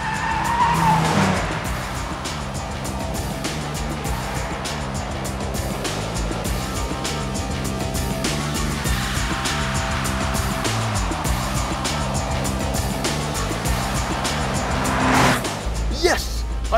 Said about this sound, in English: It's the Clio Renault Sport V6.